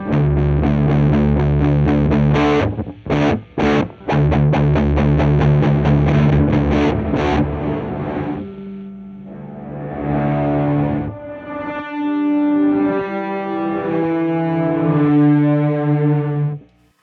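Electric guitar heavily distorted and drenched in reverb through a Walrus Audio Melee pedal, set fully wet, strummed chords ringing out in a rhythmic burst, then sustained notes that wash and blend together.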